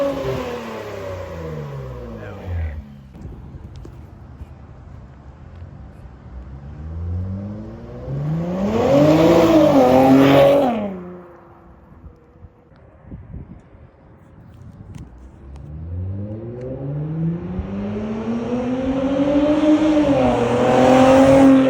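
An Infiniti Q60 Red Sport with catless lower downpipes revs up repeatedly with a deep, throaty exhaust note, rising and falling in loud bursts heard from outside.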